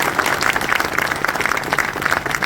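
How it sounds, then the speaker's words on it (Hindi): A crowd at a political rally in Goriwala gives dense, sustained applause to welcome a speaker, with many hands clapping steadily throughout. "मगर स्वागत होना चाहिए तालियों की गड़गड़ाहट।"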